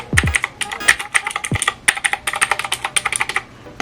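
Loud, crisp clicks of a Redragon K588 Broadsword mechanical keyboard with blue clicky switches, typed quickly in an uneven run for a few seconds. No talking.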